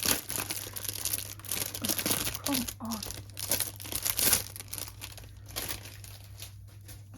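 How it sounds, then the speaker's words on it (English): Plastic packaging from a Temu and AliExpress nail art haul crinkles and tears up close in a steady, busy stream, with someone speaking briefly over it. "Should move away for the rustling, shouldn't I?"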